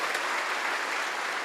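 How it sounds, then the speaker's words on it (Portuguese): A church congregation breaks into steady applause during a Mass homily in a novena to Saint Jude, a dense, even wash of many hands clapping throughout the short moment, with no voices over it. "Uma salva de palmas para Jesus."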